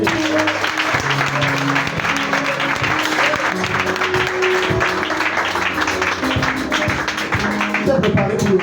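Congregation applauding at a prayer and deliverance service, a steady, dense wash of clapping that runs the whole time, with a preacher's voice and music layered over it.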